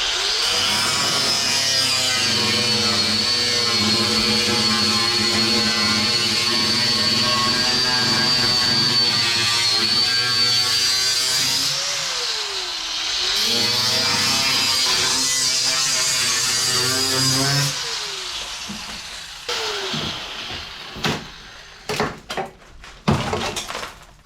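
An electric sander grinds across the rusty steel floor of a 1978 MGB GT, a loud continuous whine for about twenty seconds with slight pitch shifts, then it spins down into scattered scraping and clanking.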